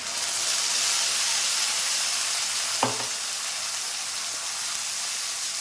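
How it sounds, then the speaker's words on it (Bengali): A paste of chilli, tomato and onion frying with spices over tempered garlic, giving a loud, dense, continuous sizzle at close range with one brief utensil knock midway and no voices. "আমি যে পেস্ট করে নিয়েছিলাম লঙ্কা, টমেটোর, পেঁয়াজ, সেটা দিয়ে দেবো।"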